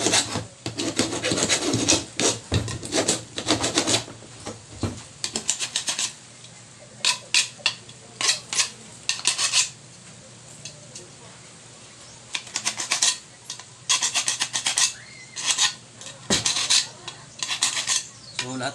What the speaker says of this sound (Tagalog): kikila muna natin tong minaitira natin para matanggal tong mga biruta niya, para mas malinis ang tingnan